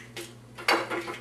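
Two crisp taps of eggshell against a bowl rim, then a wet splat and shuffle as three eggs go in for a chicken Yorkshire dish, close and clear over a low background hum.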